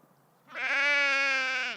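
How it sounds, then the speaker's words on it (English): A sheep lets out one long, wavering bleat, close and clear over quiet background. "What was that sheep saying?"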